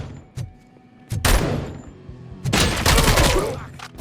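Gunfire in the Robocop Rogue City video game rings out in loud, close bursts of rapid shots, with heavy impacts in between.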